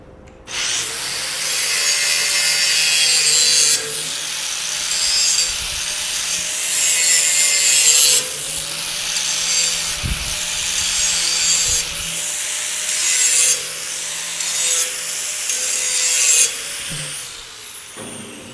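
An angle grinder cleaning slag off freshly cut metal gives a loud, sustained high whine with harsh grinding, rising and easing in several long passes over about eighteen seconds.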